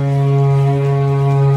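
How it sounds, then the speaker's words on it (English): Several video-game foghorns blare together in one loud, steady, low droning chord that holds without a break for its full length. "multiple foghorns"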